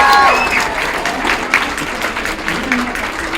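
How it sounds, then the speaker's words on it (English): An audience claps for the MC at a Girl Scouts World Thinking Day event: dense, steady applause throughout, close and fairly loud, with a brief voice at the very start. "Can we have a round of applause for our MC?"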